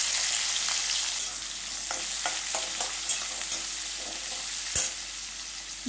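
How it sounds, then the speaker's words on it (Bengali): Chopped onion hits hot oil already spiced with cardamom, cinnamon and asafoetida, producing a loud, continuous hissing sizzle broken by repeated scraping stirs of a spatula in the pan. "আর দিয়ে দিলাম আমি পেঁয়াজ কুচি।"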